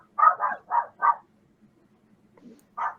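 A dog barks in four quick close yaps, pauses, gives a faint low grumble, then barks once more, with no talk over it.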